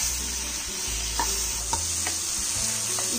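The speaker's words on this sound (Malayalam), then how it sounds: "തക്കാളി ഇട്ട് നന്നായിട്ട് എണ്ണ തെളിയും വരെ നമുക്ക് നന്നായിട്ട് വഴറ്റി കൊടുക്കാം" Tomatoes sautéing in hot oil in a pan for a pepper chicken roast, a steady close sizzle with a few scraping stirs of a spoon, no voices.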